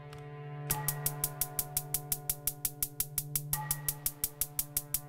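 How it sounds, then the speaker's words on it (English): A steady run of crisp, bright hi-hat ticks in even eighth notes over a sustained low tonal drone, regular and mechanical. "I've got a hi-hat sequence. It's just straight eighth notes"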